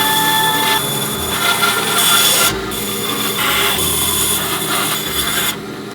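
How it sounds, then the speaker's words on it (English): A bone saw cuts through a block of foam with a loud, continuous rasping drone that varies as the blade works. Several brief pauses and a gritty rubbing texture come through, with no talking. "frolic to the bone saw so we can cut it out"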